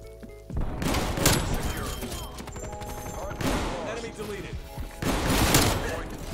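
Streetsweeper shotgun fired from the hip in Call of Duty Cold War: three loud, booming blasts spaced about two seconds apart, each followed by clattering reload and movement sounds, with someone talking over them.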